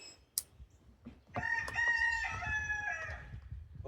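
A rooster calls once with a loud, drawn-out crow close by, after a brief knock, somewhere near work on a free, non-running push mower.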